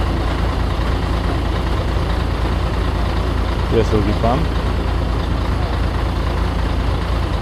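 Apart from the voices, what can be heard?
concrete mixer truck engine idling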